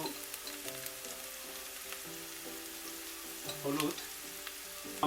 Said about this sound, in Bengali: তো আমি একটু নাড়িয়ে দিচ্ছি এখন। তো পেঁয়াজটা মোটামুটি হালকা ভাজা ভাজা হয়েছে।